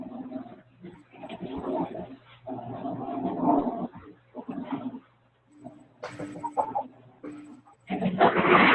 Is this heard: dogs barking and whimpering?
yes